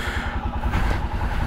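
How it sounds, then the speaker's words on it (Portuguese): A motorcycle engine rumbles close by with a steady, pulsing throb, the sound of the bike while it is being ridden, with no talk over it. "vocês estão me vendo aqui pilotar a nova moto do canal"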